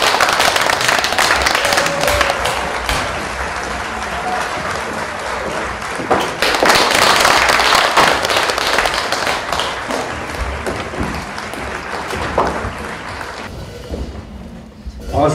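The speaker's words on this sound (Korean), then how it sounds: "여러분 큰 박수 부탁드리겠습니다." An audience at an outdoor stepping-stone concert claps in steady, dense applause for roughly fifteen seconds, with a few louder swells before it tapers off.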